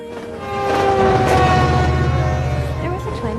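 A train rolls along steadily, and a sustained horn-like tone rises over the rumble of the rails. The sound swells early, then eases slightly toward the end.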